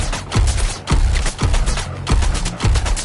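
Gunfire in the Suicide Squad video game is aimed at a cannon's weak spot: loud, close bursts repeat in a quick, regular rhythm, each a punchy thump with a crackling tail.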